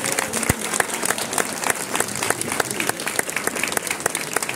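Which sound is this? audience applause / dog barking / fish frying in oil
audience applause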